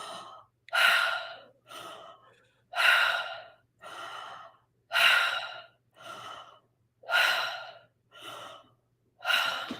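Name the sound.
people taking deep breaths through the mouth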